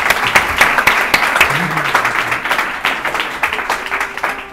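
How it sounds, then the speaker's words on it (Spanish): Applause from the audience at a Startup Grind Mataró talk, dense and steady clapping filling the room for several seconds, with some voices mixed in underneath. "Esto se merece un aplauso"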